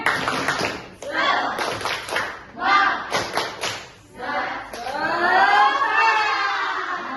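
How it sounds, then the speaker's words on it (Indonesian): Students in a classroom stand and perform a rhythmic group clap, sharp patterned bursts of hand claps and chanting voices in sequence, ending in a sustained loud stretch of clapping and cheering. "Tepuk semangat."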